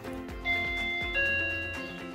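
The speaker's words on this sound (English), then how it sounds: "You should hear a doorbell sound coming from the OSI Mini Hub" Doorbell chime from an OSI Mini Hub, triggered by a door sensor, plays a clear electronic multi-tone melody with ringing sustained notes over a low background hum, close and alone without talk.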